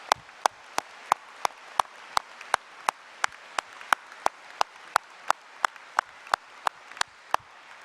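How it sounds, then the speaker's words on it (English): Clapping at a university graduation ceremony for Edinburgh Napier University staff: sharp, evenly spaced claps, about three per second, in a slow steady rhythm over a quiet room. "let's give you a massive round of applause for all the staff at Edinburgh Napier University"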